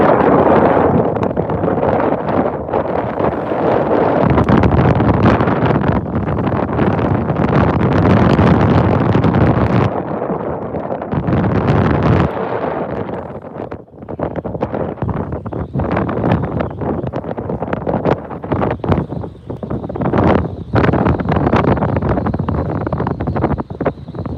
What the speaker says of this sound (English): I think the wind has died down a little bit